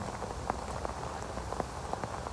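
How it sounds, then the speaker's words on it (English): Steady rain falls around an outdoor camp, a dense continuous patter with scattered louder drops striking a surface nearby, no voices present. "There's a rain."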